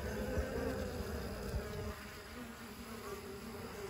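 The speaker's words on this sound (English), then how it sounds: "these bees were a little testy" Honey bees buzz steadily around a mating nuc, a dense, close swarm drone with no voices over it, slightly louder in the first half before easing a little.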